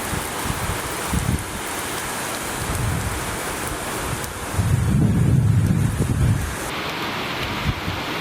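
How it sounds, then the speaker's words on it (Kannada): Steady heavy rain in Kodagu district, Karnataka, falling on surfaces nearby with a dense continuous hiss, gusts of wind buffeting the microphone and a low rumble swelling midway. "ಮಡಿಕೇರಿಯ ನಾಪೋಕ್ಲು ಸೇರಿದಂತೆ ಜಿಲ್ಲೆಯ ವಿವಿಧೆಡೆ ಮಳೆಯಾಗಿದೆ."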